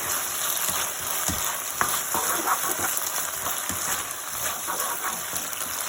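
Chicken manchurian frying in a pan, a dense close sizzle with a few knocks and scrapes of a final stir running throughout, no voices.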